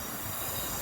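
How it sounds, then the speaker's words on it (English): A South Western Railway passenger train running through St Denys station, a continuous rumbling roll with high wheel squeal on the rails, steady and fairly close, with no talk. "the train now arriving in is the 1349 Southwestern Railway service to Portsmouth Harbour"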